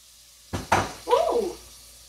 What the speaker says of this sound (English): we're gonna go ahead and give this pan a nice stir